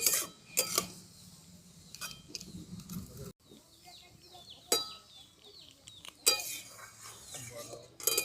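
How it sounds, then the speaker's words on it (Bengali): A utensil scrapes and clinks against a pan while grated papaya is stirred, giving irregular metallic taps and scrapes close by amid faint background noise. "তো এটাকে আমি খুব বেশিক্ষণ নয়, মিনিট 5 মতো আমি নাড়াচাড়া করে নেব।"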